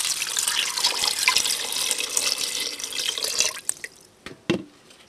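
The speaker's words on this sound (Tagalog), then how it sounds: "lalagyan po natin ng water." Water pours into a pot of pork, a steady splashing gush that stops partway through and leaves a few scattered drips and clanks.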